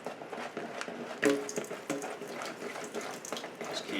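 Water poured bit by bit into banana pancake batter mixed by hand, with wet splashing and stirring clatter, soft knocks and a few sharp clinks over a low, close background.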